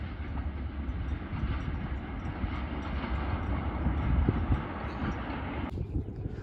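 A Green Line passenger train at Gaddar railway station in Karachi rolls past with a continuous low rumble and rattle of wagons, steady and fairly close, ending abruptly.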